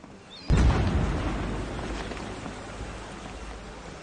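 Explosion in a Hindi-dubbed Hollywood shark movie: a sudden loud boom bursts in after a quiet moment, then a rumbling, crackling roar slowly decays and lingers to the end.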